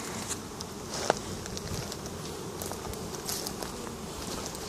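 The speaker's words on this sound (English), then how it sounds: "I got bees going in there" Honey bees swarming around unoccupied hives in Moses Lake, a dense steady buzz of many insects close by, with faint footsteps and a single sharp tap partway through.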